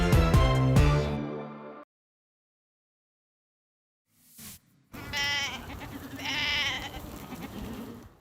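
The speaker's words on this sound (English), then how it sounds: "High on a hill overlooking Calgary, this hardy goat herd is hard at work." A herd of goats bleats on a hill overlooking Calgary, with loud harmonic bleats at first, then a silent gap, then further bleating from several animals over outdoor noise.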